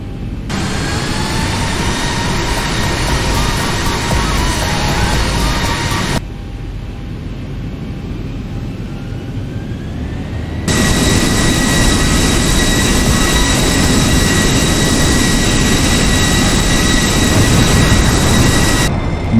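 Airliner jet engines spooling up and running, a loud sustained roar with high whine tones that cuts out briefly then returns louder and steadier, no speech.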